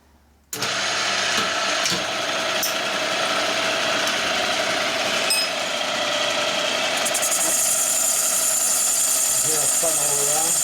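A cylinder boring machine cutting a 1958 Harley-Davidson 74ci FL panhead cylinder starts up abruptly and runs as a loud, steady machining drone with a constant high whine, several brief clinks and a sharper shift in tone near the end.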